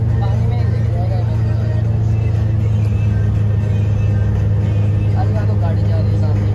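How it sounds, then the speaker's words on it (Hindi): A car passes on a road in Yakutsk, Russia, heard as a constant loud engine rumble and road noise from inside or near a moving vehicle, with people talking over it. "गाड़ी जा रही है सामने"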